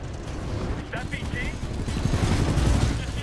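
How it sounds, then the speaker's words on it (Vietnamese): Gunfire rattles in the video game Titanfall 2, dense bursts of shots and mechanical clatter building toward the end, with a voice talking over the combat. "sao bắn nhau ầm ầm vậy"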